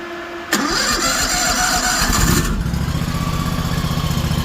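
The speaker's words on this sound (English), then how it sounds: "fire it right up. Here it starts chugging." An AGT KTT23 mini excavator engine cranks briefly, catches and starts, then settles into a loud, close, rhythmic chugging idle, with no talking.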